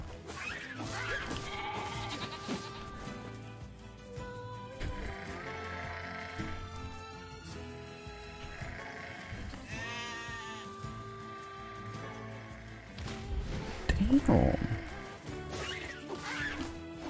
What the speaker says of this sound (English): I hate sheep, man.